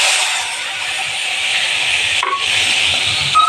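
Spice paste sizzles and fries steadily in hot oil after whole dried chilli, fenugreek and bay leaf tempering, with a continuous close, loud hiss and brief stirring scrapes partway through.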